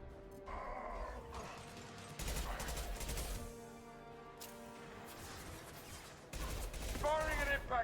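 Impact shot gunfire in Mass Effect 2, heard as bursts of game combat with loud blasts around the 2- and 6-second marks, layered over a steady music and effects bed with some voice chatter.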